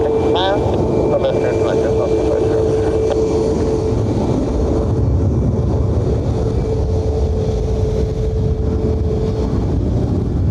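An aircraft lands on runway 28 left at Dublin airport, a loud, continuous low engine rumble with a steady tonal whine, filling the scene without breaks.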